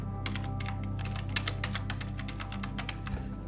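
Computer keyboard typed in quick bursts of close, crisp key clicks over a steady low room hum while entering employee details into loan management software, with no talking.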